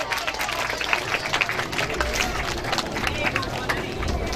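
Audience at a school event applauds steadily, a dense wash of many hands clapping with crowd murmur and voices mixed in, continuous and fairly loud throughout.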